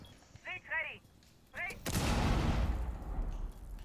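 Gunfire in a competitive esports shooter match, a single loud burst of shots that trails into a noisy rumble, preceded by short excited talk from a commentator.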